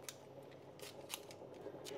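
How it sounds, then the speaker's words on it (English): Kitchen scissors snipping vegetables for a lentil and vegetable soup, a series of quiet, crisp cuts at an uneven pace, close and faint over low room noise. "I just use kitchen scissors to chop them up so they don't all go stringy in the soup"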